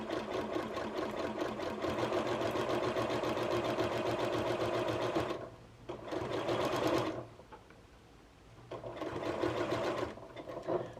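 A sewing machine stitches fabric for a leaf garland in close, steady whirring runs, stopping briefly and then starting up again.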